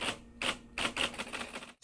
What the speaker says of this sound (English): You used to type on a what? A typewriter, a xylophone, or a glockenspiel?